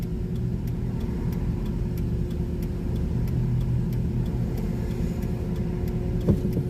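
A car driving along a road near Vandenberg, with a steady low engine and road rumble sustained throughout, fairly loud and close, with no talk.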